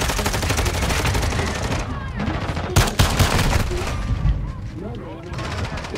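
Rapid gunfire in the video game Modern Warfare II, with dense bursts of automatic shots and sharp, loud reports. The firing runs continuously with a few heavier blasts near the middle.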